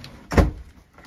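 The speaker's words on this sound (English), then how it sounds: "I'm going to close this door." An apartment laundry room door is closed, giving a single short, dull thud at moderate distance, with quiet room tone before and after.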